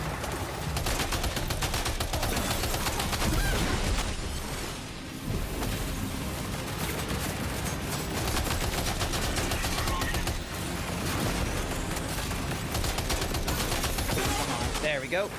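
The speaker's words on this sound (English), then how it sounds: "Shooting in the head still works, right? Hopefully shooting in the head works." Video game gunfire in Death Stranding 2: dense, rapid bursts and volleys of shots crackle almost without pause, loud and continuous, easing briefly once midway before resuming.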